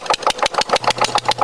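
A maize mill engine chugs steadily at close range, mid-pitched, with rhythmic regular pulses about every fifth of a second and a faint low hum beneath.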